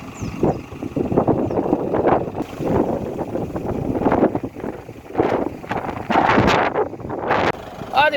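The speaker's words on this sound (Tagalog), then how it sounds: "Napakalakas ng hangin." Strong wind buffets the microphone at an elevated outdoor spot beside a mini campervan, arriving in loud rumbling gusts that rise and fall, with a voice talking intermittently underneath.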